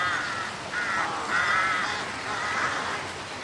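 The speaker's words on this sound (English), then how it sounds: "carrion crows. They've earned their name." Carrion crows caw outdoors near a bridge in the countryside, several harsh repeated calls in a steady rhythm at moderate distance over a faint background hiss.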